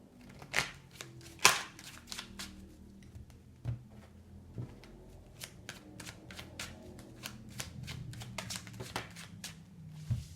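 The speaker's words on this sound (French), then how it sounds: "on va tirer 5 cartes avec l'oracle des miroirs" Oracle cards being shuffled and drawn, a steady run of soft riffling and slapping flicks with a few sharper snaps, close by and quiet with no speech.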